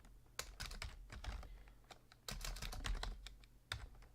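Fingers tapping keys on a computer keyboard while entering a formula into an Excel spreadsheet, a close, uneven run of quick clicks with short pauses and a few heavier keystrokes, no talking.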